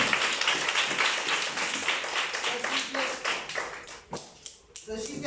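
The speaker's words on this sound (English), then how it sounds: "Give a round of applause" Grade 5 pupils clap together in a classroom, a busy burst of close, crisp claps that thins into scattered taps toward the end, with some chatter blending in.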